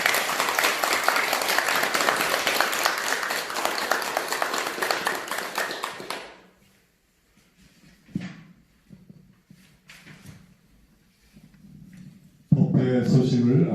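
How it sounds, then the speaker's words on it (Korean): A congregation at a Buddhist dharma service claps in sustained, dense applause for about six seconds, then it fades into quiet room noise with a few scattered knocks before a voice starts speaking. "찬탄의 박수 한번 부탁드립니다."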